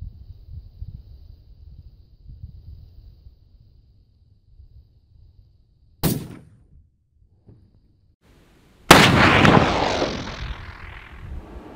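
Two loud 45-70 rifle shots from a Henry lever-action carbine fired outdoors, a sharp crack at about six seconds followed by a louder blast with a long decaying echo, over faint wind and low rumble.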